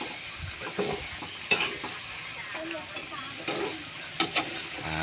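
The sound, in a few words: stirring adobo in a pan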